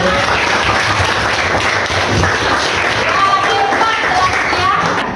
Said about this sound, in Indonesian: tepuk tangan untuk Rahmat